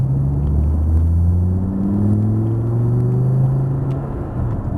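A car re-accelerates hard on a race track, its engine note rising steadily through the gears as a loud, close, continuous rumble with climbing harmonic sweeps, heard alone.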